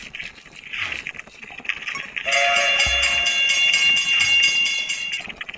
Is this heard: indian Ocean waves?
no